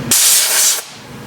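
A short, loud burst of compressed air hisses steadily for most of a second, blowing sawdust off a freshly drilled wooden chess board. It cuts off abruptly and leaves a quiet shop.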